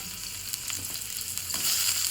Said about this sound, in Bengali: কড়াইতে আমি আবারও কিছুটা পরিমাণ সরষের তেল দিয়ে দিলাম।